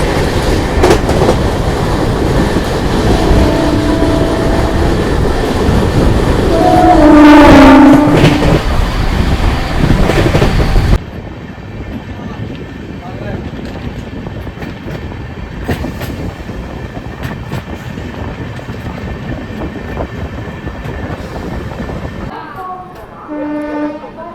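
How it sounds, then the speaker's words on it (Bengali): A Vibhuti Express train with new LHB coaches overtakes a Howrah–Bardhaman local, a loud rushing roar and clatter of wheels with a horn blast mid-way, then quieter steady rolling clickety-clack on the rails. "overtake Howrah Bardhaman local versus Bibhuti express"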